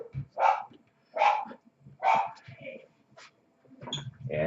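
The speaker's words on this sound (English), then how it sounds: "You can hear my dogs." Several pet dogs in a home give bursts of barking with whimpers and yips between them, heard nearby in a rough, uneven rhythm.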